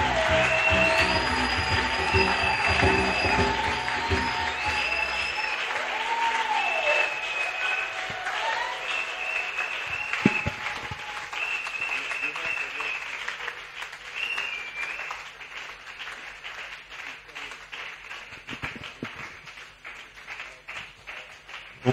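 Church congregation applauding to welcome a bishop at a celebration service, a steady wash of clapping with cheers and ululating calls, moderately distant and reverberant, thinning out toward the end.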